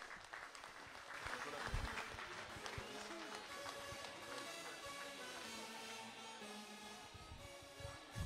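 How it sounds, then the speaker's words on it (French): Crowd applause at a local trade fair prize draw, steady clapping over several seconds mixed with background music and hall noise. "Allez, applaudissements."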